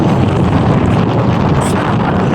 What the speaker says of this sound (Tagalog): Diyan po malakas ang hangin ngayon.